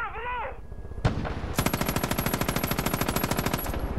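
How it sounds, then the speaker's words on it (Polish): Gunfire in the Far Cry 5 video game: an opening burst, a single sharp shot, then a long rapid automatic volley of evenly spaced shots, loud and close. "Kto do mnie strzela?"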